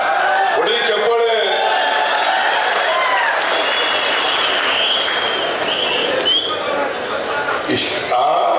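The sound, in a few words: crowd applause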